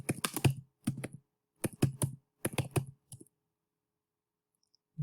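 Computer keyboard typing in short bursts of rapid, close clicking keystrokes, five clusters over about three seconds followed by quiet.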